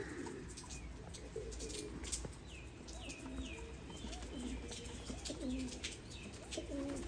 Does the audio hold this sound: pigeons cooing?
yes